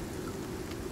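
Rain falls in the Icarus survival video game, a brief, steady wash of dense hiss under a low rumble, with no talking.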